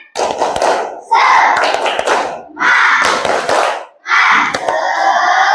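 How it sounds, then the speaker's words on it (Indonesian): Children clap a rhythmic spirit cheer, with loud bursts of clapping and chanted voices in four distinct rounds separated by short pauses. "1, 2, 3, tepuk semangat."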